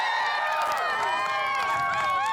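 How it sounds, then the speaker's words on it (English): A homecoming crowd at Logan cheers loudly for a singer, a continuous wall of shrill, overlapping shouts and whoops with clapping underneath. "give your homecoming girl a big round of applause, please"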